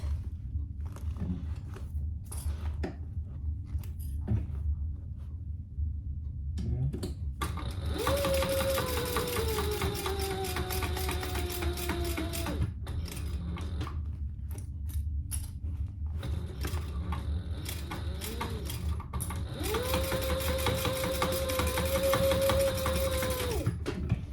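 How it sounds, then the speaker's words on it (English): A domestic sewing machine stitches a row along a zip pouch in two long running bursts, each a steady mechanical whir with a rising and falling motor whine, separated by quieter handling and shuffling of fabric. "I may go ahead and do another row of stitches just because I did it 2 rows on the other side"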